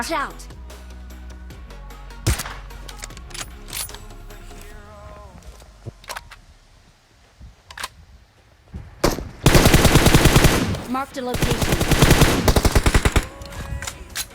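Automatic weapon fire in PUBG Mobile, with scattered single shots early on and then a loud, sustained burst of rapid gunfire near the end; players talk over the action.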